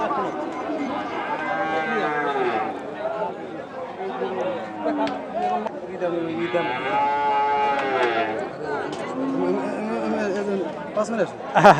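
Cows at a cattle market in Basirhat moo repeatedly in long, wavering calls amid continuous crowd chatter and people talking nearby.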